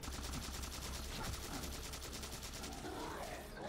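Rifle fire in the video game Halo 4 comes as a sustained stream of rapid automatic shots, dense and continuous at fairly low volume over several seconds, with no speech over it.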